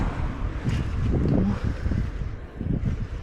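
Steady wind buffeting a microphone at an outdoor market, a low rumbling roar that swells and dips throughout, with no voices.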